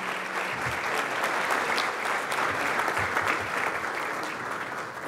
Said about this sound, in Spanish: Otro aplauso para la arquitecta